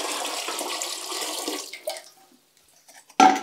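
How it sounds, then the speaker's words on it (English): Overalls painted with natural pigments are rinsed in cool water, a steady close splashing and running flow that stops abruptly, leaving near silence before a sharp final splash. "I'm just going to be rinsing these overalls now."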